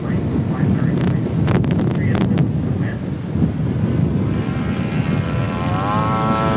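A Sport Corsair model airplane flies overhead with a steady droning engine. The tone rises into a whining, climbing pitch toward the end, and a voice can be heard in the background.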